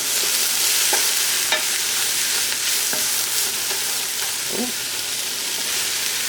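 Jackfruit sautés in hot oil for a torta, a continuous close sizzle with occasional spatula scrapes and stirring clicks across the pan.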